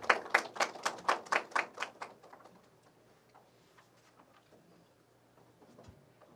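A small audience claps in welcome for a senior research fellow at a Korean science policy institute's anniversary event, starting as a brief burst of close, distinct claps that quickly fade to scattered taps and near silence.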